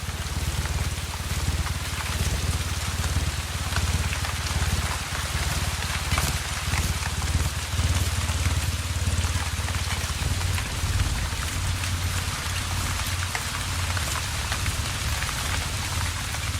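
Steady rain falls in Brazil's Atlantic Forest, a dense, unbroken hiss of drops pattering on leaves and surfaces that holds at an even, moderate level throughout, with no voices.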